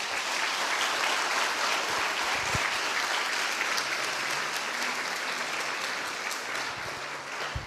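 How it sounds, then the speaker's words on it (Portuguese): A church congregation applauds loudly and steadily during a family worship service, dense continuous clapping from many hands sustained throughout. "Aplauda o Senhor Jesus bem forte"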